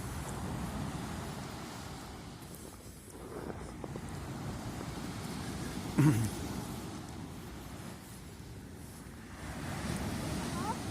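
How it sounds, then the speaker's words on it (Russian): Low, steady evening surf of the sea in Turkey in December rolls along the shore with a hiss of wind over the microphone and one brief bump partway through; no one speaks. "вечернее море."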